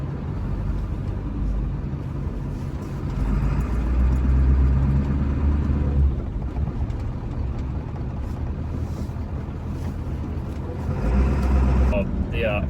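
A 1995 Ford F350 truck engine with a newly installed KC turbo assembly revving and accelerating, a loud steady low rumble that swells and eases back over several seconds from inside the cab.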